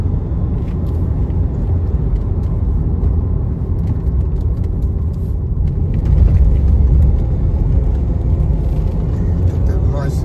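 Engine rumble and road noise from a manual 2015 Range Rover Evoque, 101,000 miles, heard from inside as it takes a bend, steady throughout and growing slightly heavier partway.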